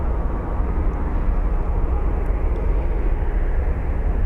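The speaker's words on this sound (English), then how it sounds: "Great departure by the 767." A Boeing 767 airliner departing Phoenix Sky Harbor airport, a loud sustained jet engine roar with a broad rumbling wash that stays strong and steady.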